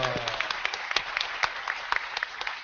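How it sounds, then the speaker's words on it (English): A convention audience at Dragon Con applauds a live tech panel, with dense, steady clapping from many hands that fills the room for a few seconds, close and sustained. "So give yourselves a round of applause."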